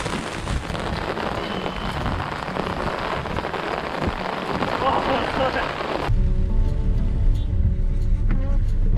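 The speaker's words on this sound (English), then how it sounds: "It's very bad rain" Very bad rain pours steadily in Kolkata, a dense broadband wash that cuts abruptly to a lower, rumbling background with traffic-like noise; a voice speaks faintly under it.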